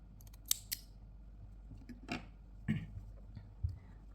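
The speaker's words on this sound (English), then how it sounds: "Cut this yarn." Scissors snip crochet yarn close by, a few sharp, quiet clicks of the blades spaced out over a faint background hum.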